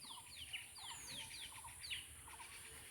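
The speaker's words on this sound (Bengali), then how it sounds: "এই যে পাখিরা ডাকতেছে না" Birds in the trees give a string of short, quick descending chirps that repeat every half second or so, faint and somewhat distant over a steady hiss of background ambience.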